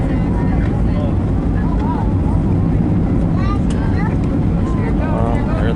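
Alaska Airlines Boeing 737-800 on landing approach to the diagonal runway at Lihue, a steady loud cabin roar of engines and airflow filling the whole stretch, with voices talking over it.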